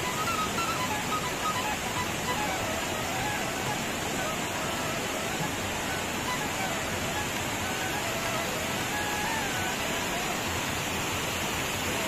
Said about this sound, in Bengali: এটি একটি ক্যাসকেডিং ওয়াটারফলস, একদম স্ফটিক স্বচ্ছ জল